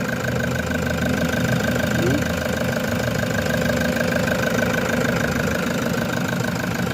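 Manual 2020 Toyota Hiace with a 3.0 turbo diesel engine idles steadily and close by, a continuous low knocking rumble with no break, while someone talks over it.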